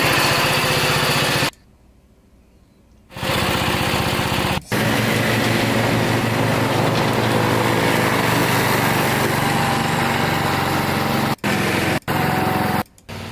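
A Jacobsen-Homelite rear engine rider with an 8hp Briggs engine runs loud and rough up close, its buzzing drone briefly cutting out, then resuming with a few short dropouts near the end.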